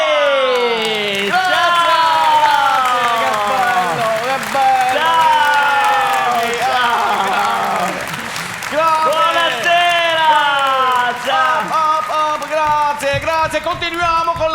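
A theatre audience claps and cheers continuously while a voice speaks loudly and expressively over it throughout, the applause forming a broad noisy bed beneath the talk.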